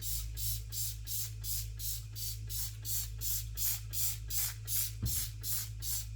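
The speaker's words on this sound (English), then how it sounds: "So I will spray the product now and let everything sit." A spray bottle of kitchen grease cleaner pumped over and over in a steady rhythm, each hissy squirt close and sharp, about a dozen in a row over a low hum.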